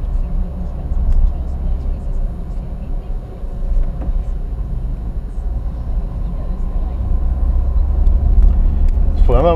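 A car drives uphill toward Erdberg in the countryside, giving a steady low engine rumble and road noise from inside the cabin throughout, with a voice speaking near the end.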